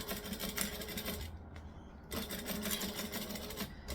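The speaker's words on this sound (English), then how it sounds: "So we're just gonna sew from here to here." Sewing machine stitching a seam runs in rapid close mechanical bursts, pausing briefly in the middle before stitching again steadily.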